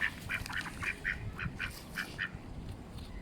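A duck on Gotland gives a quick series of about ten nasal quacks, moderately close, over steady outdoor rumble and wind noise.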